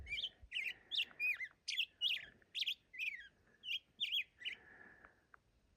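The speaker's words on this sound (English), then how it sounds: "Morning, Mr. Bird." Songbird singing on a hiking trail along the Pacific Crest Trail between Wrightwood and Acton: a rapid series of bright, warbling chirped phrases repeating in quick rhythmic bursts, fairly close and clear, ending with a sustained trill.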